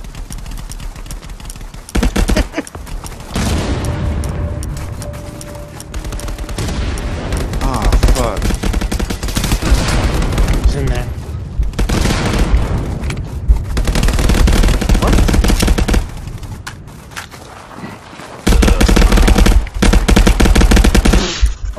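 Gunfire in a multiplayer shooter video game, with an AWM rifle in play: loud bursts of rapid shots and booms recurring throughout, with players talking over them.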